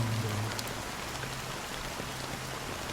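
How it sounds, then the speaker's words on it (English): Steady video game rain in Honkai: Star Rail hisses evenly throughout, a soft continuous wash with a low hum underneath. "How long has this rain been on there?"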